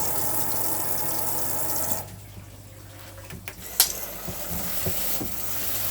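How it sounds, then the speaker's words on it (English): Water gushes from a fully opened hot tap in a 2015 Sterling Eccles Sport 442 caravan, a steady hiss that cuts off and gives way to faint drips and small clunks. "it's fully open on the hot side, and the same on the taps in the bathroom, on the sink and the shower."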